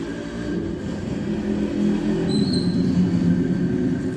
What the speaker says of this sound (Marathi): गाड्यांचा आवाज ऐका